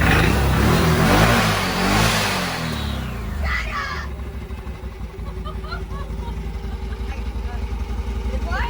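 A vehicle engine revs up after a belt and primary and secondary clutch change, rising and then falling away to a steady rhythmic idle, close by with people talking over it.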